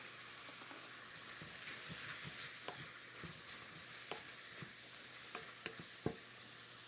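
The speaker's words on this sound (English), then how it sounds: "next in, some cumin seeds and some diced hot chili pepper" Cumin seeds and diced hot chili pepper frying in a pan for a chicken curry: a soft, steady sizzle close by, broken by faint crackles and a few sharper pops, with no talking.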